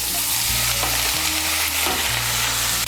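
Chopped onion and tomato fry and get stirred in a pan, a steady loud sizzle running throughout, with the scrape of the spoon turning the pieces.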